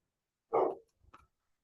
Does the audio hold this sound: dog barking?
yes